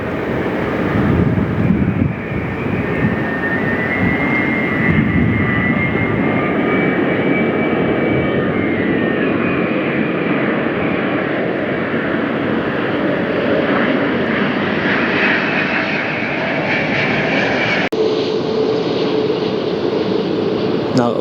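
A TAP airliner touching down smoothly at LAX, its engines a loud, steady roar mixed with wind buffeting the microphone throughout, a brief sharp change near the end.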